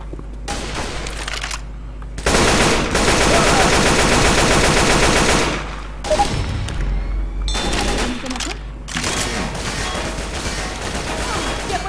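Automatic shotgun fire in a Counter-Strike style shooter comes as long, dense bursts of rapid blasts. Several sustained volleys are loud and close, broken by short pauses, with extra thuds and game effects in between.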